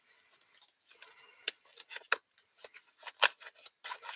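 Vintage Pokémon trading cards being shuffled by hand, a run of crisp, papery riffles and snaps in short bursts, close and fairly quiet, with no talking.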